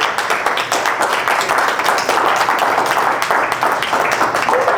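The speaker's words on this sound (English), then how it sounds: "Let's give them a big round of applause again." Audience applause at a live business mastermind event, dense steady clapping from many hands filling the room without a break.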